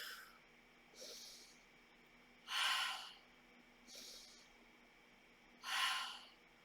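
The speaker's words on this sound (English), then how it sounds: "Breathe." Slow, deliberate breaths during a beginner yoga session: soft inhales alternating with louder, airy exhales, about five breaths spaced roughly a second apart, close and quiet.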